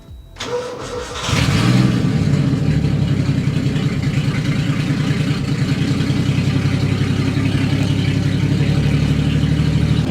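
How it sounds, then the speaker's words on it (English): A Nissan 240sx running on E85 fuel cold-starts with a brief cranking whir, then catches and settles into a loud, steady idle with a fast, even pulse, close by and without talk. "So before we end the video, I just want to do a little E85 cold start."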